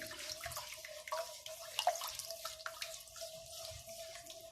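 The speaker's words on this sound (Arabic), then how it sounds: "هنزل بمقدار الميه، ومقدار الميه قد مقدار الرز البسمتي مرتين" Water poured from a tap into a cooking pot for basmati rice, a faint, steady splashing stream with small drips, no talk over it.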